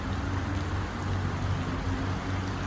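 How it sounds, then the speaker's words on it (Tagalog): Heavy rain pours steadily outdoors as a storm strengthens near a busy road, a dense, even roar of drops on surfaces, close and continuous, with no talking. "Lumakas na yung ulan."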